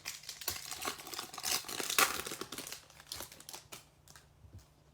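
Topps Chrome baseball card pack wrappers being torn open and crumpled, a close, busy run of crinkling and sharp tearing bursts that thin out toward the end.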